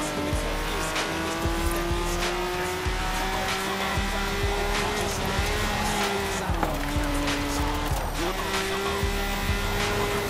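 A Honda NSX-R in Forza Horizon 4 races with a loud, steady engine drone that climbs and drops through gear changes, with tire squeal and skidding throughout, close and continuous.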